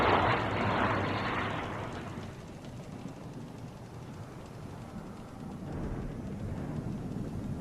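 An aircraft engine effect from a WWII naval radio drama, a broad droning roar that is loudest at first, fades to a low hum, then swells slightly again near the end.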